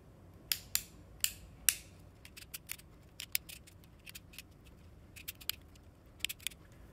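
Sharp, crisp clicks from adjusting the elasticity setting on a GAN12 MagLev speedcube, a quick burst of four louder clicks followed by scattered lighter ticks, close and quiet with no talking.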